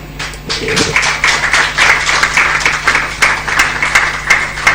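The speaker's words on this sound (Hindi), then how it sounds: "जोरदार तालियों से" An audience at a literary gathering with Pandit Jasraj gives a loud, enthusiastic round of applause. Dense, sustained clapping fills the whole stretch at close range with little letup.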